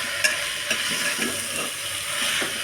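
Tomato masala with mint and coriander is stirred in a hot pan for vegetable biryani, a constant hiss of sizzling under soft scraping spoon strokes and a few light clicks against the pan.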